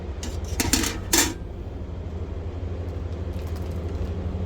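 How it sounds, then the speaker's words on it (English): A metal rack system being set into a CanCooker Jr. pot for a pork roast: a few sharp metallic clanks and rattles close by in the first second, then a steady low background hum. "I got the rack system. We're going to put it in here."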